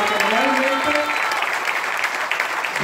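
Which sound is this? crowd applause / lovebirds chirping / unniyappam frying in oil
crowd applause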